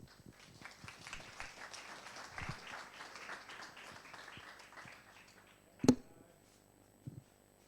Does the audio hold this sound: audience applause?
yes